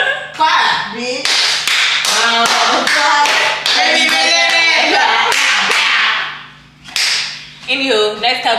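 Hands clapping in a sharp, rapid burst during a home baking challenge, with loud voices and laughter around the claps.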